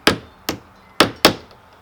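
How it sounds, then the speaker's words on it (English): Four sharp taps of a hammer tapping a front door cover back in, close and fairly loud, with short gaps and a slight pause after the second. "I'm going to have to tap that back in again."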